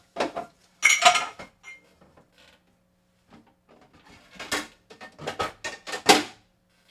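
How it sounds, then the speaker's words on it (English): Pots and pans clank and rattle up close as a deep pan for shrimp Thai curry is pulled out from among them, with sharp metallic clatters and scrapes in irregular bursts and short quiet gaps. "I'm going to pull out the big guy. So this pan is gonna work."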